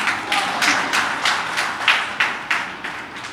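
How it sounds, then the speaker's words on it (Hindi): An audience at a teacher's motivational talk claps in steady, rhythmic unison, a series of loud evenly spaced bursts with no speech over them. "ताली फिर बजानी पड़ेगी आपको सबको"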